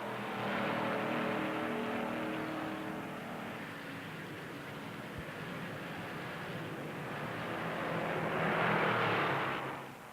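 Stock cars race at Darlington Raceway in the 1958 Southern 500, engines roaring steadily along the high-banked groove, with a blurred wash of engine noise that swells near the end as cars pass.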